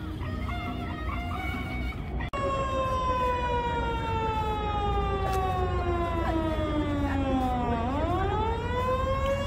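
The warning siren of Busan's Yeongdo drawbridge wails loudly and holds steady, its pitch slowly sliding down and then rising again, with a brief break near the start and no talking.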